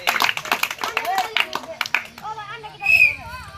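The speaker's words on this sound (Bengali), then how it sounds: "জোরদার তালিয়া।" Applause from a crowd at a Hadudu (kabaddi) match between India and Bangladesh, with quick clapping bursts in the first two seconds, then children's voices and whistly calls as the clapping thins out.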